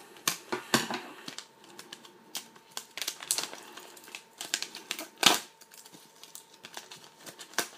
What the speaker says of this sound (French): accessoire officiel qui coûte une quinzaine d'euros, que l'on va déballer tout de suite